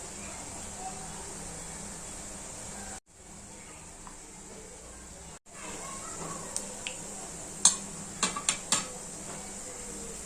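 Food fries in a little oil in a kadhai with a steady, even hiss, briefly cut off twice, then a few sharp metallic utensil clinks toward the end.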